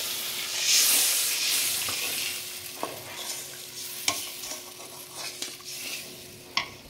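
Coconut milk poured into a masala frying in a pan for prawn malai curry gives a hissing sizzle at first. Quieter bubbling follows, broken by a few sharp clicks as the spoon scrapes and stirs.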